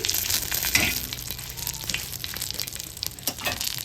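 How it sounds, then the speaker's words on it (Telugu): Dried red chillies fry in a spoonful of oil, spread out in the pan, for a crushed shrimp-shell chilli powder. The sizzle is steady and close, with crackling bursts and the scrape of stirring throughout. "ఇప్పుడైతే ఎండి మిరపకాయలు ఇందులో వేసేసుకొని దూరగా వేయించుకోవాలి"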